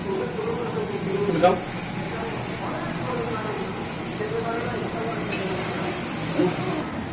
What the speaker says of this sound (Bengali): এখন আমি একটু বেগুনটা ভেজে নিচ্ছি